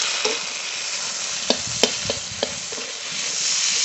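Cumin, poppy seed, mustard and green chili paste fry in a pan with a steady sizzle, broken by a few sharp clicks of a spoon stirring against the metal.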